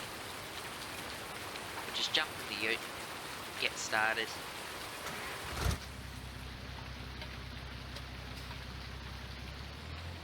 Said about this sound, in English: it's gonna pretty much rain through till about tonight